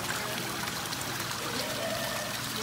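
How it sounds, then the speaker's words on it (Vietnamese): Small waterfall at Our Lady of Lourdes Shrine in Duck Lake, Saskatchewan, a steady close rush and splash of falling water filling the whole moment without pause. "thác nước nhỏ nhỏ."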